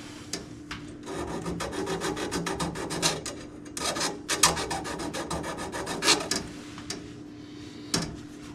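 Rapid rasping file strokes chamfer the end of a brake line tube on a 1969 Charger, coming in close irregular bursts with brief pauses between passes.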